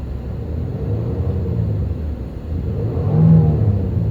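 A Honda pickup truck engine rumbles steadily close by, then swells briefly as it revs near the end.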